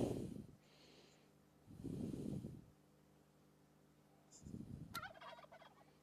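Turkeys gobbling in a video game: three loud, raspy gobbling bursts spaced a couple of seconds apart over a low hum, with a brief higher chirp near the end.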